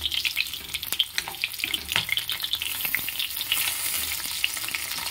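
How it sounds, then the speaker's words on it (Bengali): Fish shallow-frying in oil in a wok, a steady crackling sizzle with bursts of spattering close by, continuous and fairly loud with no talking. "এরকম করে মাছটা ভেজে নেব।"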